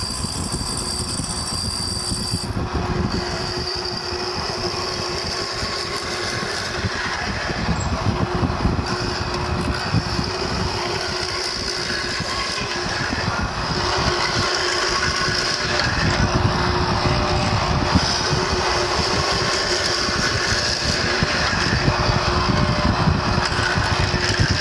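A wagon hub mortise is cut with an indexing jig: a steady, loud, high-pitched motorized cutting whine runs continuously and close, with no talk.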